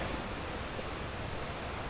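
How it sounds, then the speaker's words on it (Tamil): Steady rushing roar of water at Jalagamparai waterfalls in Thirupathur, a constant broadband wash heard from a distance, moderately faint and unbroken with no voices. "அந்த தண்ணியோட சத்தம் கேட்குதுங்களா உங்களுக்கு?"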